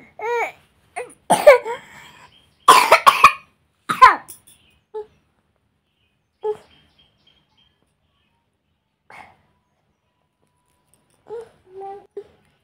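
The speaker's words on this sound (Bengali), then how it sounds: "তাহলে কাশি হয়েছে তো?" A child coughs in several harsh bursts in the first few seconds, followed by a few faint, sparse sounds in otherwise quiet surroundings. The cough is linked to having eaten ice cream.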